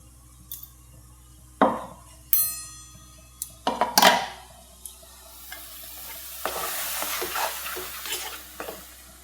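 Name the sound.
blended mango pulp cooking in a wok (kadai)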